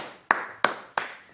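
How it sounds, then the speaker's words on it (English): Three sharp hand claps ring out in an even, unhurried rhythm, close and distinct, each with a brief reverberant tail in a quiet room. "I applaud you for getting it"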